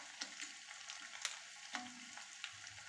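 Dried red chillies crackle and sizzle in hot oil for a tempering of mint and mango pickle, a steady faint fry broken by sharp pops and spoon scrapes, with no talking.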